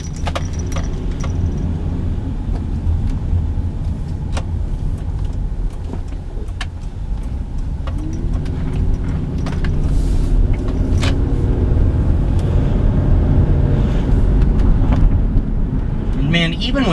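Engine of a 2002 Subaru Outback H6 3.0 L.L. Bean Edition with automatic transmission while driving, a steady low hum with road rumble heard from inside the cabin, rising a little partway through, with scattered clicks and rattles under a voice talking.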